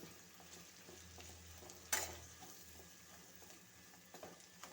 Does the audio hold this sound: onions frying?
yes